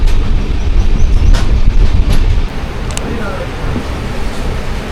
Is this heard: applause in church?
no